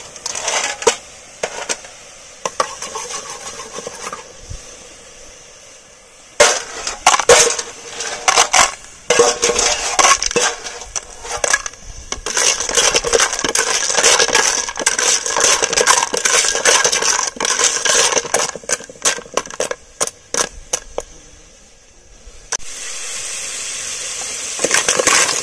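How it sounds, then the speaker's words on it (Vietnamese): Snails are stir-fried with lemongrass and chili in a pot, with repeated clanking and scraping of a utensil against the metal, in irregular bursts and then a steadier stretch of stirring. "Bắt đầu chuẩn bị nồi mình xào lên nhé bạn nhá."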